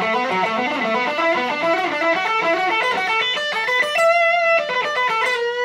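Electric guitar with a distorted, effects-laden tone plays a pentatonic scale run linking two shapes, a steady stream of clear single notes climbing and descending, heard alone at a loud level.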